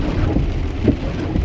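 Rain heard from inside a Tesla car during a drive in traffic makes a steady, close patter across the body and glass, with a low rumble beneath it and no voices.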